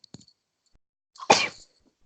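One sharp, close sneeze bursts out after a faint sniff and short quiet pause, with near silence around it.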